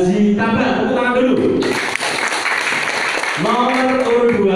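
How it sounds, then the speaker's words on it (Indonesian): An audience at a village head candidate ceremony in Kandangan bursts into loud, sustained applause for about two seconds, framed by a voice speaking before and after. "Jadi nomor 1 Bapak Haji Tabar. Tepuk tangan dulu."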